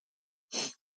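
A single short sneeze, close and fairly loud, surrounded by silence.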